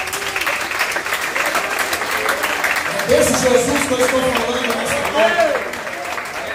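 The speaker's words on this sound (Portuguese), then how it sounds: "Quem pode aplaudir Jesus?" A church congregation applauding during an evening service, with clapping rising partway through and swelling again near the end, heard under a preacher's continuous amplified speech.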